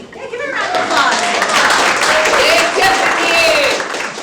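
A workshop audience in Ashtabula County, Ohio applauds a storyteller, brisk clapping from a small group near the microphone, with voices and some whoops mixed in.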